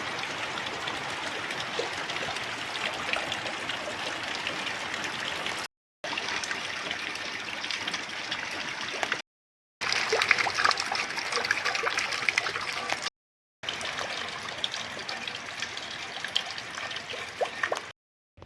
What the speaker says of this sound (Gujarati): તો ગાઈસ વરસાદ હવે આવવા માંડે છે.